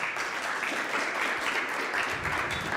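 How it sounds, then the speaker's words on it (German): Audience applauding after a talk, a dense, steady burst of clapping from a crowd that fills the short span without pause. "Ganz großer Applaus"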